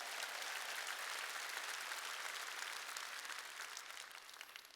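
Sustained applause from a large church congregation, a dense steady wash of clapping that continues throughout without any talking.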